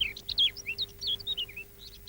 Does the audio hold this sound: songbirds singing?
yes